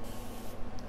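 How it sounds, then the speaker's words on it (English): A steady, broadband hiss of an aerosol spray can spraying patina, continuous and fairly close, with no talking. "we're just gonna go spray a little bit here"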